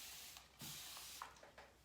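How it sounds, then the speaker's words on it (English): Water sprayed from a spray bottle onto a thrifted coffee table, a series of close, breathy hissing bursts, one long burst followed by several shorter quick pumps, with no voices. "I will spray the piece generously"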